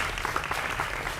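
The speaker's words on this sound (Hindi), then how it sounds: "जोरदार तालियों के साथ स्वागत करिए प्रदीप भंडारी का" Brief burst of studio audience applause on a Hindi TV political debate show, dense steady clapping from a crowd greeting a party spokesperson, with faint speech underneath.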